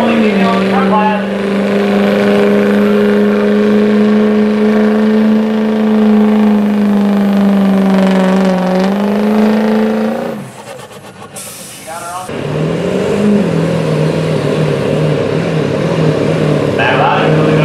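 Pulling truck at a county fair truck pull roaring down the track, its loud engine holding a sustained high-revving tone before cutting out briefly, then surging again, while an announcer talks over the noise.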